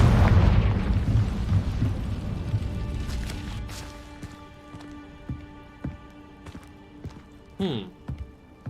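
A Confringo fire spell explosion in Hogwarts Legacy: a loud booming burst at the start that decays into crackling debris and scattered small impacts, with a brief magical whoosh near the end.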